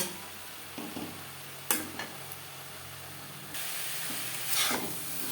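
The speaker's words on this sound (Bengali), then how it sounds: "দু তিন মিনিট মিডিয়াম টু হাই ফ্লেমে শাক বেশ ভালো করে শুকিয়ে নেব" Bitter greens (betho shak) with slit green chillies, flat beans and eggplant frying dry in a pan over a medium-high gas flame: a soft, steady sizzle and hiss with a few stirring clicks and scrapes, growing louder toward the end.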